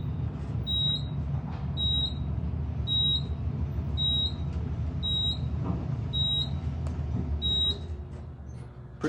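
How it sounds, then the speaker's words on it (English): Otis/Kone elevator door sensor in a Denver university building beeping while blocked, a series of eight short, evenly spaced high electronic beeps about once per second over a low hum of machinery. "Beeps every time you put your arm in the sensor"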